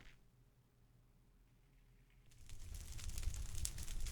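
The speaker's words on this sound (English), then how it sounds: "Just a little bit of the dungeon crumbling around you" Minecraft Decked Out 2 Hazard effect in the video game, the dungeon crumbling: after a quiet start, a gritty rumbling of falling debris rises and stays dense and noisy to the end.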